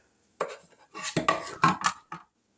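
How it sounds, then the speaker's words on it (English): A spoon clinks and scrapes against a pot of sweet tea as it is stirred, a few close, bright knocks and rattles in a short run before falling quiet. "find a spoon, and give this a little bit of a stir"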